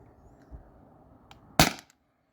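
A single sharp pop from a Beeman air pistol firing a rubber-coated steel ball over a chronograph, close and loud after a quiet stretch with a faint earlier click.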